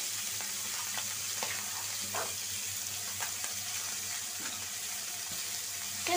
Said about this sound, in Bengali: ট্যাংরা মাছটা আমি ভাইজা নিব।